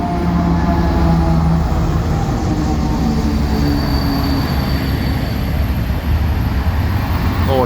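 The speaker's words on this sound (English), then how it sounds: "Here's our log train." A log train rolls through Chirk railway station at night, a loud continuous rumble of wagons and clattering wheels with faint squeals, heard close and steady throughout.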